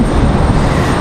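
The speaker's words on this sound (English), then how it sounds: "United 1685 coming in from Washington Dulles. 41 minutes of flight time for the A320." A United Airbus A320 arrives at Raleigh Durham airport from Washington Dulles, a brief, loud, close burst of engine roar heard alone.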